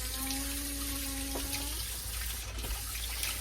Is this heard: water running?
yes